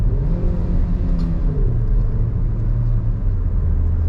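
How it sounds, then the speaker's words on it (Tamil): AMT automatic car accelerating hard to overtake, engine rumbling and rising steadily as it downshifts, heard from inside the cabin as a continuous low drone without talk. "நான் ஆக்சிலேட்டர் வந்து ரொம்ப ஃபோர்ஸாக சடனாக மிதிச்சிட்டேன்"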